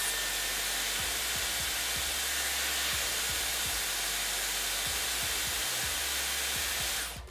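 A Dyson Airwrap blows hot air on high heat onto hair, making a loud, steady whooshing roar throughout that cuts off abruptly at the end.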